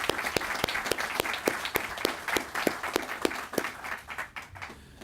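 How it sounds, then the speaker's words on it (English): An audience applauds at a 9/11 memorial ceremony in McDade Park, with a brief, fairly close round of steady clapping that rises and then fades away after about four seconds. "So I'd like to applaud Kendra for a great job."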